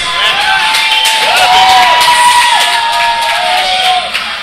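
Wrestling arena crowd roars and cheers for a wrestler's entrance at a Friday night main event, a loud sustained wash of shouting and whoops with a high whistle sliding over it.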